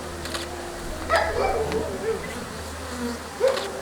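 Honey bees from a strong colony buzz around an open hive, a low steady drone with louder bursts as individual bees fly close past.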